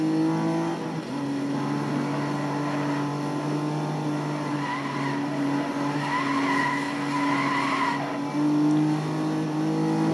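Aston Martin DB in Need for Speed Most Wanted roaring continuously near full throttle, with a dip in revs early on, then a steady high engine note layered with tyre skids and squeals, loud and unbroken for about ten seconds.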